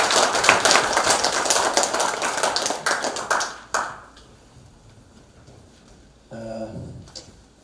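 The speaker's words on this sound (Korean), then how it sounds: "대통령을 위해서 박수 한번 보내주십시오" Lecture audience in Korea breaks into dense, steady applause for the president, loud for nearly four seconds before cutting off abruptly; a quiet pause follows, then a voice begins speaking.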